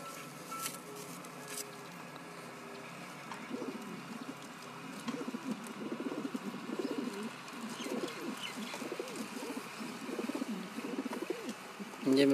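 A domestic pigeon on a rooftop coos in soft, repeated throaty bursts close by, over a quiet background, with a brief louder sound at the very end.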